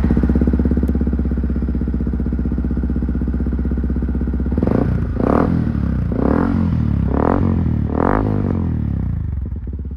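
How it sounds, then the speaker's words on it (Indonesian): A Yamaha WR155 supermoto motorcycle with an aftermarket Gordon exhaust idles with a deep, rumbling note, then revs sharply several times in quick bursts, loud and close. "Knalpot gua pakai Gordon, pengen dengar suaranya boleh"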